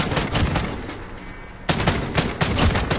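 Rifle fired in single-shot mode, a quick string of sharp, loud, close reports: several rapid shots, a brief pause, then another fast cluster of cracks.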